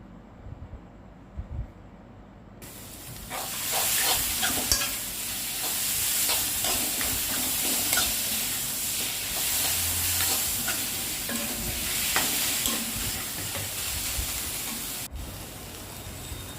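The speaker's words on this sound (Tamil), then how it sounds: "அதை போட்டுக்கலாம். அதையும் வதக்கிக்கலாம்." Grated raw mango sautéing in a hot pan for mango rice, a steady close sizzle with frequent scraping stir strokes, loud and continuous with no talk.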